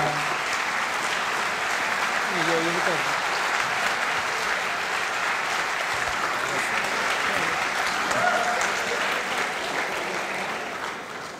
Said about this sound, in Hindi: आपकी जोरदार तालियां आमंत्रित करें